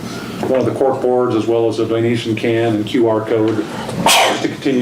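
A single sharp sneeze bursts out near the end of a council meeting, loud and close, right after a man's steady speech.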